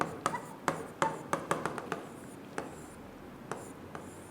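Marker or chalk strokes on a board while writing out a set for a maths lesson: a series of short, crisp taps and scratches in an irregular rhythm, fairly close and alone, with no talk.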